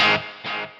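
An electric guitar chord is struck and then repeats as a quieter echo, a NUX Cerberus delay effect trailing off in fading repetitions.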